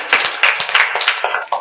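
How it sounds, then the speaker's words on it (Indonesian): A classroom of students claps together for the class: a short burst of close, sharp, uneven hand claps from a small group, loud and brisk. "Beri tepuk tangan untuk semuanya."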